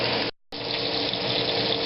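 Water pours steadily out of a pot of cooked shrimp being drained, a loud continuous rush that breaks off for a moment and then resumes.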